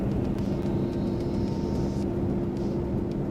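A light aircraft engine in Microsoft Flight Simulator 2024 drones steadily as the throttle is advanced, a constant loud hum with a faint rising whine, no voices present.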